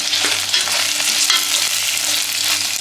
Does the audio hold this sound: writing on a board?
no